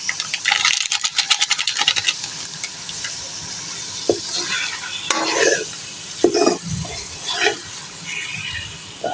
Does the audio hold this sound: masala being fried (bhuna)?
yes